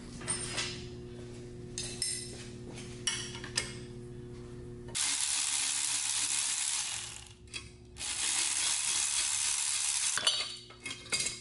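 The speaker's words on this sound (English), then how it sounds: "let's get started on welding this manifold all the way out" Welding an exhaust manifold on a Nissan S13, with long steady crackling hiss of the arc in two sustained runs separated by pauses of faint clinking and shop noise.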